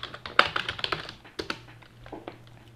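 Keys clatter on a computer keyboard in short uneven bursts of close, crisp taps, with a couple of louder strokes among lighter ones. A low steady hum sits underneath and no one speaks.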